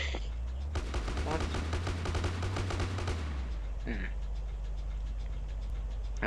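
Rapid automatic gunfire rattles in a video game in one dense burst lasting a couple of seconds, followed by scattered lighter shots, with a voice briefly calling out.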